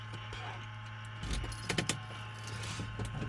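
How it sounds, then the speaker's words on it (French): Keys jangle close by in a light-aircraft cockpit before engine start, a few brief metallic rattles and clinks over a steady low engine-like hum, with no talk. "Donc là, je prends la clé."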